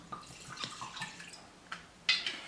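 Jack Daniels whiskey splashing out in a quick pour, a series of faint, close drips and trickles with a brighter spill near the end, no talk.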